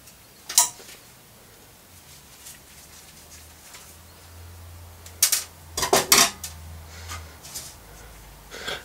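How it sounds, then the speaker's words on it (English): Phillips screwdriver undoing two small screws on a small engine, giving a few faint metallic ticks and clicks, with a louder cluster of scraping clinks near the end over a low background hum. "So we'll just undo these two screws."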